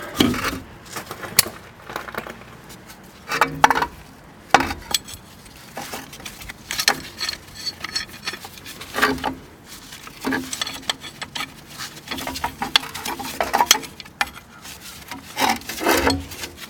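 A clamp being tightened to push back the brake caliper piston on a 1987 Toyota Camry with dragging brakes, producing irregular bursts of metallic rubbing and scraping with brief pauses in between.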